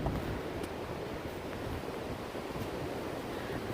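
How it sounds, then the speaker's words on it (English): Strong wind roars across an Appalachian mountain ridge, a steady, loud broadband rush with gusty surges that stays constant throughout, with no voices. "I want y'all to hear this wind whipping up on this ridge"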